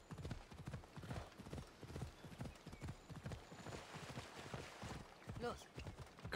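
Horse hooves clip-clop steadily over ground in Assassin's Creed Odyssey, a continuous rhythmic trot with a brief whinny, heard under someone talking.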